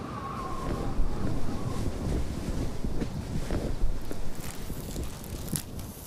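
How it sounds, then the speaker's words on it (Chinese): Strong wind buffets the microphone outdoors on a farm where workers are fixing plastic sheeting: a steady, loud, gusty roar with low rumbling throughout, no clear voices. "这风太大了"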